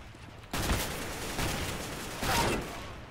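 Counter-Strike: Global Offensive gunfire, with a few loud, close shots, each followed by a rough rolling tail over a constant noisy game background.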